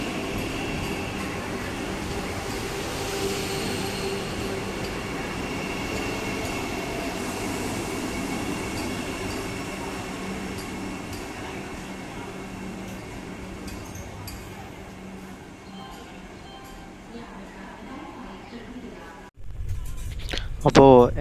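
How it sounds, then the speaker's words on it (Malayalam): A Vande Bharat train arrives at Thrissur railway station with a continuous rolling rumble and hum that slowly fades. The sound cuts out near the end, then returns with nearby clatter and voices on the platform. "നമ്മുടെ വന്ദേ ഭാരത് തൃശ്ശൂർ റെയിൽവേ സ്റ്റേഷനിൽ വന്നു"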